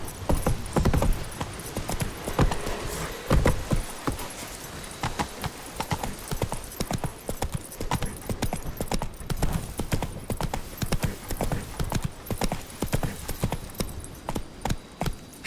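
Roach, Geralt's horse in The Witcher 3: Blood and Wine, trots with a fast, steady clatter of hooves that keeps up without a break, loud and close.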